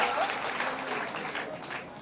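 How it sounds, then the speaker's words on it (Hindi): An audience at a live religious discourse breaks into applause, a dense, steady patter of many hands clapping at moderate volume that carries on for the whole stretch without a clear break. "ताली बजाओ"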